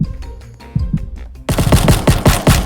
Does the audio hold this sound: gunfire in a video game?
yes